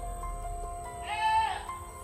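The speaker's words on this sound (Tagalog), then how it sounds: "may boses ng kambing tayo narinig dyan tol." A single goat bleat rises midway through, nasal and wavering, over a steady background hum.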